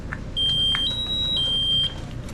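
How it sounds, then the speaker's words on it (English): Self-contained breathing apparatus low air alarm, a loud, piercing steady electronic tone that shifts pitch slightly partway through and cuts off after about one and a half seconds over faint background noise. "we're going to test our low air alarms and vibe alert"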